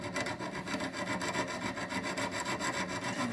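Steady rasping strokes of a file worked across the edge of a previously heat treated knife blade, a close, continuous scraping with a regular back-and-forth rhythm.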